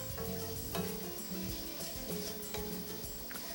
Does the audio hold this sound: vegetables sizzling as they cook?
yes